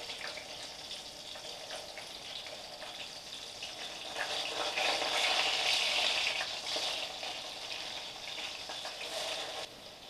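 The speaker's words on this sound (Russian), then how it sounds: "одна сторона поджарилась, переворачиваем котлетки" Pike fish cutlets fry in a pan with a steady, soft sizzling hiss that swells a little in the middle and then settles. Nobody speaks.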